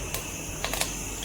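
Mustard seeds spluttering and popping in hot coconut oil while cooking Onam puzhukku, a dense steady crackle with a few louder pops, close and alone.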